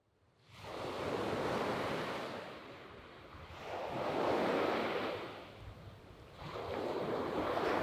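Sea waves roll in as three broad, rising-and-falling swells of surf wash, steady and moderately distant, with a windy hiss and no voices.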